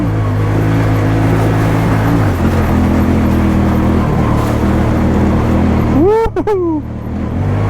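A 2020 Honda Talon 1000X4 off-road side-by-side roars loudly and steadily as its engine accelerates, with a whooping shout from a rider near the end.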